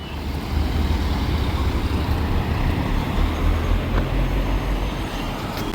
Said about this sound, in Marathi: इतकी कंटिन्यूस गाड्यांची लाईन आहे